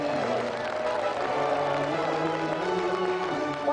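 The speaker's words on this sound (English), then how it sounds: "Another round of applause for our special guest tonight, Jadine Doran." Studio audience of a TV game show applauding and cheering steadily, a dense continuous wash of clapping throughout.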